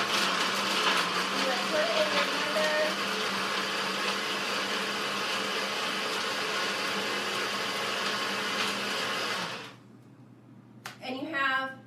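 Kitchen blender running steadily while making a beet and greens smoothie, a loud continuous whirring roar for most of the time before cutting off abruptly, followed by a brief clatter.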